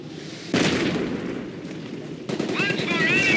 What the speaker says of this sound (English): Watch for enemy fire!